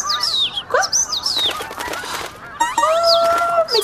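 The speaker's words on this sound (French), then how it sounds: "Oh, ce sont les oies qui reviennent parce que c'est le printemps, mon Zozo." Geese back for spring honk loudly and close by, with a string of nasal calls against what sounds like flapping wings and rustling. No one talks.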